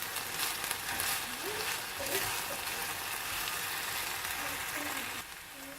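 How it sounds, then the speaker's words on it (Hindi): Egg fried rice with mixed vegetables sizzles steadily in a hot pan while being stirred, a continuous close frying hiss with faint scraping and a few quiet voice fragments underneath. "इसको मिक्स कर लेंगे, सब चीज़ों को मिला लेंगे।"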